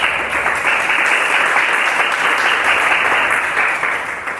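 A church congregation at Peniel Church in Cali claps loudly and steadily in a dense, continuous wash of applause that tapers slightly at the end.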